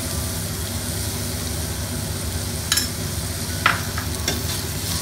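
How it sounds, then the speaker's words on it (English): Green chilies and ginger garlic paste fry in oil with a quiet steady sizzle, broken by a few sharp scraping clinks from a spoon stirring the pan. "Fry it till the rawness goes from the ginger garlic."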